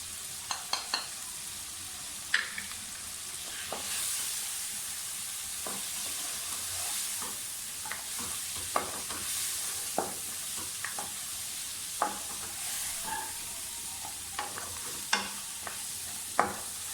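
Mutton and bottle gourd curry with ground coriander and turmeric sizzles steadily in a pot, a continuous frying hiss broken by occasional clicks and scrapes of stirring.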